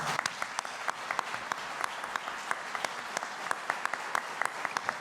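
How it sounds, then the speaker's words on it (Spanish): Audience applause for a panel on technology and access to case law, fairly quiet, steady clapping with distinct individual claps throughout. "Que se escuche fuerte el aplauso para esta mesa de trabajo."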